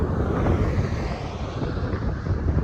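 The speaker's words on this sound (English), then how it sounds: "it's windy as hell today" Wind buffets an outdoor microphone with a continuous low rumbling roar, steady and loud across the whole stretch with no voice.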